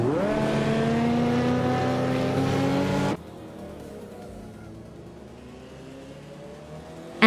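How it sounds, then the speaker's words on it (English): A 1993 Lancia Delta HF Integrale rally car engine in a racing video game roars loudly with rising pitch for about three seconds, then cuts off abruptly to a quiet background. "Anarchizix is driving a 1993 Lancia Delta HF Integral, known for its rally heritage and sharp handling"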